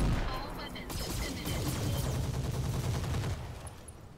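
Mech weapons firing all at once in the Roguetech video game, a dense loud sustained barrage of overlapping gunfire and blasts that tails off near the end.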